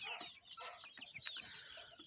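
Small birds cheep and peep in quick, chattering bursts at close range, with soft scratchy movement beneath and no voices.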